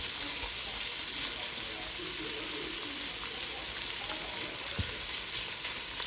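Sausage sizzles and fries in a pan, a dense steady hiss running evenly throughout with a couple of faint clicks, close and alone, no talking.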